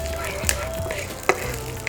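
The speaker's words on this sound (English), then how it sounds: "Some red chilies goes in," Red chilies and curry leaves sizzling in hot oil for a South Indian mor kuzhambu, a steady soft frying hiss with a couple of sharp clinks as the pan is stirred.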